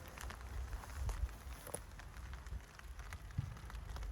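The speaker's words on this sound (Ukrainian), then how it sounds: "Дощик плаче." Rain patters steadily over an old cemetery in a small wood in May, a soft continuous hiss with scattered drops and a few heavier taps, fairly quiet and with no talking.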